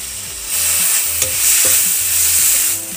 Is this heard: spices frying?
yes